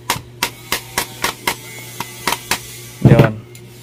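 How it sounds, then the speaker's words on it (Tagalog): A rubber mallet taps a part of a Bosch angle grinder in a steady series of about ten sharp knocks, then one louder rattling clatter, close up with a faint background hum. "Tapos paluin natin ito ng rubber mallet"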